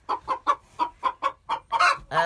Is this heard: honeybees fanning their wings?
no